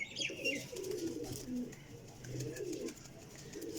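A red-eyed male pigeon coos in low rolling phrases, two or three bursts close by, with faint chirps and background noise and no talk over it.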